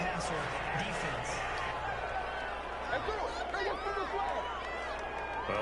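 A stadium crowd in the football video game Madden 21 reacting to a penalty call, a steady loud roar of many voices that never lets up, with a voice talking over it.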